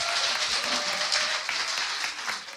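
Audience applause and cheering in a studio at a live Korean talk show during a birthday celebration, dense bright clapping and crowd noise, steady and loud throughout.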